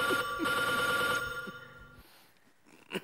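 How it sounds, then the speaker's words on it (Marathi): A telephone bell rings indoors in a household scene, a bright electronic trill pulsing for over a second before stopping, followed by near silence and a soft knock. "फोन वाजला."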